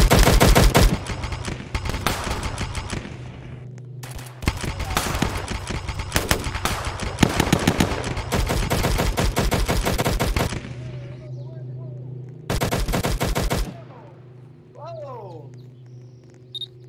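Rapid bursts of automatic gunfire in a Roblox police patrol game, loud repeated volleys broken by short pauses, with a low engine hum and faint clicks between.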